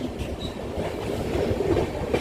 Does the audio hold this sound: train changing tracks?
yes